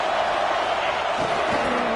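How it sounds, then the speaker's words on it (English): Stadium crowd in a college football video game, Georgia against Western Kentucky, roaring steadily behind the defense on a big third down, a dense continuous wall of cheering with a commentator talking over it. "Big third down as the crowd gets behind this defense."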